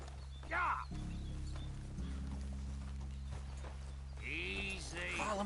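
Horse hooves clip-clopping in the Red Dead Redemption 2 video game, a steady soft walking rhythm under low ambient rumble, with people talking over it.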